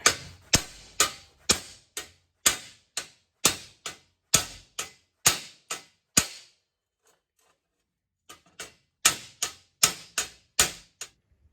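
Heavy hammer blows on scrap metal being straightened for wall art, a steady run of loud ringing strikes, a pause, then another rapid series, each hit sharp and close with short decay.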